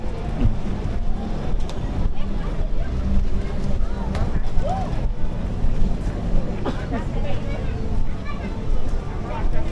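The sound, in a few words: boat motor running on water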